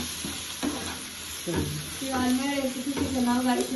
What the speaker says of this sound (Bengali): রসুন কুচি আদা কুচিটাকে সটে করে নিতে হবে